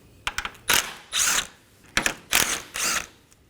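Two 8mm bolts being undone on the transmission oil cooler line bracket at the radiator of a 2011 Dodge Durango 5.7L V8, heard as close, crisp bursts of ratchet clicking in two short groups with brief pauses between.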